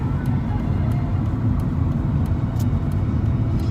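Car cruising on a freeway approaching Denver, a loud, steady low rumble of engine and road noise filling the cabin throughout, with faint ticks on top and no talking.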